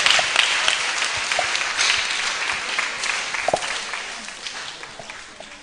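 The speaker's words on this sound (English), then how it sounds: "Let us clap for Father." An audience applauding, a dense wash of clapping that starts loud and gradually fades as it tapers off.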